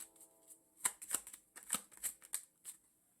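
Tarot cards are shuffled by hand in a series of crisp riffling bursts, about eight quick flurries with short pauses between, close and clear against a quiet background.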